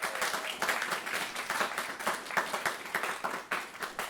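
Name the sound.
audience applause for an intern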